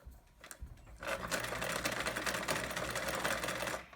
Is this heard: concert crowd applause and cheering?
no